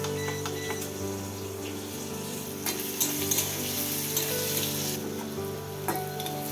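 Sliced bitter gourd for shukto fries in hot oil in a pan, a steady loud sizzle with occasional crackles and a faint stirring scrape, no voices.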